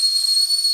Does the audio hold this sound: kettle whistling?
yes